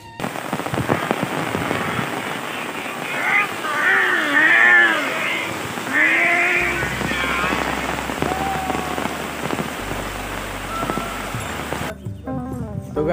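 Heavy rain pours during an off-road bicycle ride from Kumarghat to Dalgaon, a loud steady hiss of drops with a few squealing tones over it and a low rumble in the second half, with no one speaking.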